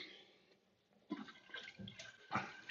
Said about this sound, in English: we'll turn the water back on